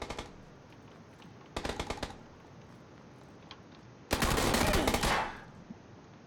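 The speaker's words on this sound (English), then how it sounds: "He had to shoot me with like an M416 or something" M416 assault rifle firing in a first-person shooter video game: three bursts of rapid automatic fire, two short ones and then a longer, louder sustained volley, with quiet gaps between them.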